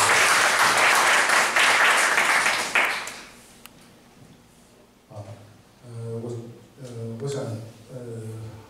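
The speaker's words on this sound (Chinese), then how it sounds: "所以大家请热烈掌声。" A seated audience at a talk gives loud, dense applause that fades out after about three seconds, followed by someone speaking alone.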